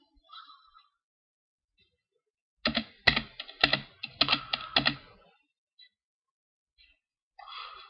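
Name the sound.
typing a password on a computer keyboard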